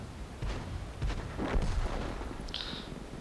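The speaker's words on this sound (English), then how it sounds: "Trying to see if we can get some nice lucky shots on some of these fellas." LeFH artillery firing in World of Tanks, with several muffled booming shots in quick succession followed by a brief whistling tone, all moderately quiet.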